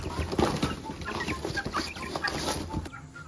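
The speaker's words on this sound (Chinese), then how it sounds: "我们把鸡就养在一个空屋里" Chickens kept in an empty room cluck repeatedly close by, with overlapping short calls and soft rustling throughout, no talk.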